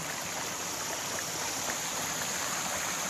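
Water from a mountain stream is collected on a high ridge, a steady, close rush of flowing water with no break.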